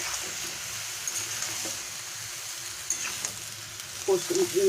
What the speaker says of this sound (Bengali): মশলাগুলো দিয়ে আলুর সঙ্গে ভালো করে আমি আস্তে আস্তে এটাকে আমি কষে নেব